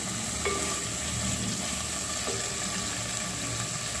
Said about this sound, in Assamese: আলুখিনিও দি দিলে জিৰা গুৰি অকমানো দি দিছে কাটি থোৱা বিলাহীটো এতিয়া দি দিব আৰু এইখিনি এতিয়া ভালদৰে ভাজি ল'ব